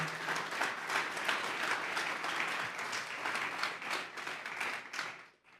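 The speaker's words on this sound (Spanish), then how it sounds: "Vamos a darle una ofrenda de palmas a Dios en esta hora." A church congregation claps steadily through a service, a dense and sustained wash of applause that carries on evenly before tapering off at the very end.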